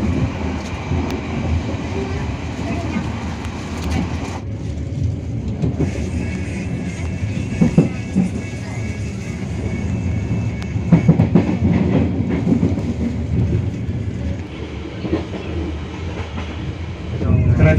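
A KA Bengawan passenger train in Indonesia rumbles steadily along the rails, wheels clacking over joints, with a continuous loud roar throughout and no voices standing out.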